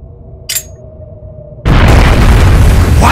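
A bomb detonates in The Legend of Heroes: Trails of Cold Steel, starting with a sudden loud boom after a quiet stretch broken by a short burst, then rolling into a sustained roaring rumble.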